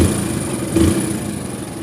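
A Hero Splendor Plus motorcycle engine idles steadily after a timing chain repair, giving a close, low, even running tone with a slight surge partway through.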